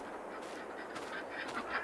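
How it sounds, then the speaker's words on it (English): A duck in a farm map of a video game gives a few short quacks over a steady soft background bed, fairly quiet, with no voices. "There's our duck."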